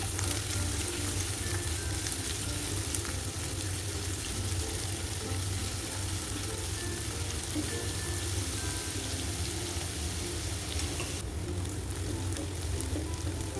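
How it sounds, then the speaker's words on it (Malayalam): Shallots sauté in a pan for Kerala-style beef dry fry, a continuous even sizzle with soft stirring scrapes throughout, fairly quiet and without talk. "അപ്പോൾ അതും കൂടി ഇട്ടിട്ട് നന്നായിട്ടൊന്ന് വഴറ്റിയെടുക്കാം."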